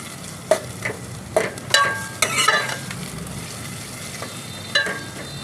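Two large onions softening in hot oil for a chicken tinda curry, with a steady fry sizzle broken by repeated sharp spoon scrapes and knocks against the pan, close up and without speech.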